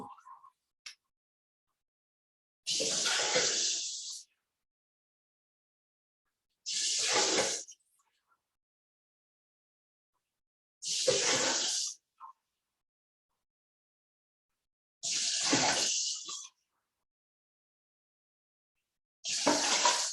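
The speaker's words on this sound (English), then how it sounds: "I've got 6 cups veggie stock or water in each bag." Veggie stock or water poured into a meal prep bag in five separate bursts of splashing liquid, each a couple of seconds long, with near silence between pours.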